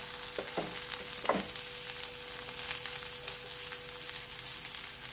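Okra and potato pieces frying in a pan with crushed red chillies, a constant low sizzle with a couple of short stirring knocks near the start, alone without talk.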